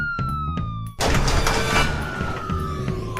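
A toy police car's wailing siren sweeps up and down, preceded by a few clicks and then joined by a loud rattling mechanical whir.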